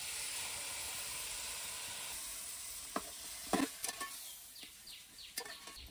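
Goat head frying in hot oil with turmeric over a wood-fired stove, a steady loud sizzle and hiss with a few sharp spits and pops near the end.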